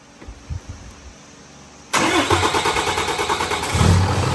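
After a quiet start with a few small knocks, a Cummins diesel engine with its grid heater deleted cranks briefly and fires up abruptly, settling into a loud, rhythmic, chugging idle close by.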